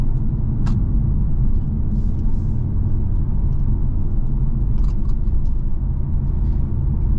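A 2023 Infiniti Q50 Red Sport 400 driving over rough tarmac, heard from inside as a steady low road rumble and engine hum with faint tyre noise, no talking.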